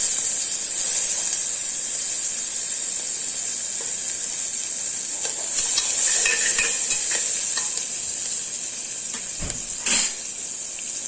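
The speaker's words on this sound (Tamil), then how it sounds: "வெங்காயம் சேர்த்துறேன்" Chopped onion dropped into hot ghee with a few cashews in a pan, giving a constant loud hiss of frying with some stirring clatter and a brief louder burst near the end.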